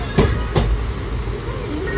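Passenger train in motion, a steady rumbling ride with two brief louder clatters near the start over continuous low wheel and carriage noise.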